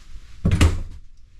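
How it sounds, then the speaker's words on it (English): A door closes inside a fifth wheel trailer: one sharp, close thud and rattle, ringing out briefly before quiet returns. "Close the door, please."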